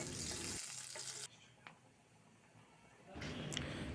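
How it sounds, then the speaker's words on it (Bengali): Green chilies frying in mustard oil in a wok: a loud hiss and crackle at the start, then a quiet spell with a single clink, before the sizzling comes back near the end. "কড়াইতে পরিমাণ মতো সরষের তেল দিয়ে কাঁচামরিচগুলো ভেজে নিব।"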